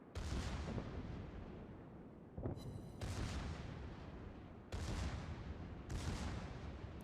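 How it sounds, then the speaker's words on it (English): Secondary guns of the British battleship Warspite firing in World of Warships, a loud volley of booming shots with sharp cracking onsets, bursts landing about every one and a half seconds over a continuous rumbling battle din. "Our secondaries start to open up on him."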